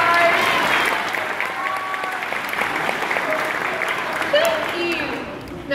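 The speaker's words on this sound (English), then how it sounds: "So how about one more big round of applause for all of our adoption stars?" An audience at SeaWorld San Antonio's "Pets Ahoy" show claps for the adopted shelter animals. The applause is broad and continuous, with chatter and a few squeaky calls mixed in.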